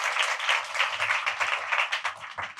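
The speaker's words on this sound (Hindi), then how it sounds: "ताली मारो।" Audience clapping at a talk on Srimad Bhagavatam, a quick run of sharp hand claps with an uneven rhythm, moderately loud and close, no talk over it.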